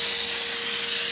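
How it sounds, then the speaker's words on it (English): A pump sprayer mists Super Clean degreaser onto a tire in one continuous loud, airy hiss that lasts the whole moment, with a faint steady tone beneath it. "Let me just pump up my little sprayer here. I'll put some Super Clean on the tire."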